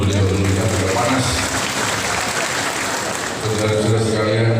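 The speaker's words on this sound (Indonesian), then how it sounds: "tepuk tangan dulu untuk beliau yang sudah panas" Applause from a crowd at a formal provincial government gathering, greeting the Governor of Gorontalo, Rusli Habibi. Dense, steady clapping fills the room for several seconds at an even level.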